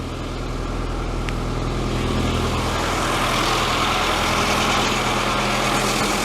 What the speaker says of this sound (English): Don't worry about that, it's just idling.